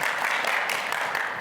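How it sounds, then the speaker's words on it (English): A live audience at the IAAPA 2022 trade show breaks into a dense, steady round of applause, close and continuous throughout the short burst with no talk over it. "Give him a round of applause, Jamie."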